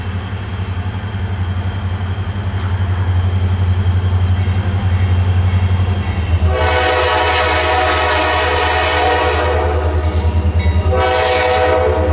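A Reading and Northern freight train, QASD, leaves the Tamaqua yard for Shenandoah with a steady low diesel rumble, then sounds two loud horn blasts, one long and one shorter, close by.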